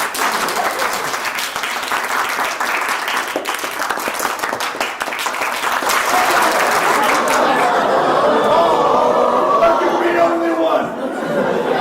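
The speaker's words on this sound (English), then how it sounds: "So just clap loudest for the person you want out." A live show audience claps loudly to vote someone out, steady applause mixed with crowd chatter and laughter, growing denser and louder toward the end.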